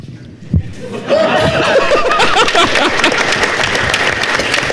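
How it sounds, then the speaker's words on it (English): A convention panel audience in San Diego breaks into a burst of laughter mixed with scattered clapping, a dense, lively crowd sound that starts abruptly and carries on steadily. "I can't help but feel there are more people laughing then than actually clapping"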